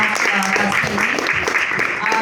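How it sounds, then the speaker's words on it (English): A debate audience claps for two debaters, a steady wash of applause running the whole time while voices talk over it. "A round of applause for you two"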